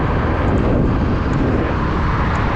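Suzuki Address V125 G scooter riding along a road, a steady broadband engine and wind roar that stays loud and continuous throughout, with no talk over it.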